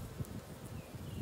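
Honeybees hum steadily and close by during a hive inspection, with a couple of soft knocks from the equipment breaking into the brief buzz.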